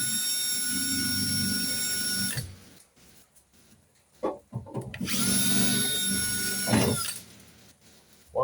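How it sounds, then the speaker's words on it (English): A power drill drilling out rivets on a 1970 MGB GT door whines steadily in two long bursts, separated by a quiet pause with a few clunks and scrapes. "So we'll try to drill these out."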